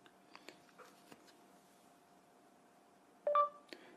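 Phone beeping as it is lifted to the ear, a short bright electronic tone standing out near the end over a quiet background with a few faint clicks and taps before it.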